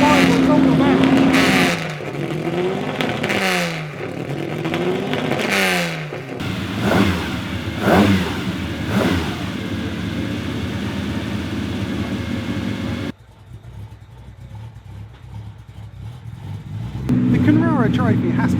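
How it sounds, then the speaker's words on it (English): Classic racing cars roar past one after another at the Goodwood Revival, loud close engine pass-bys with rising and falling pitch sweeps, followed by a quieter lull before another car approaches; a voice speaks in the background. "I'm standing so close to all these cars. It's incredibly noisy, but I absolutely love it"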